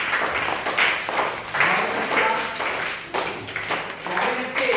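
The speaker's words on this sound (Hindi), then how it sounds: "तालियों से स्वागत करें क्लास का।" Children in a classroom clap to welcome the class, a loud, busy burst of handclaps that comes in uneven waves, mixed with voices.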